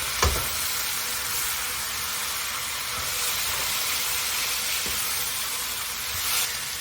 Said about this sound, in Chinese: 饼下去炒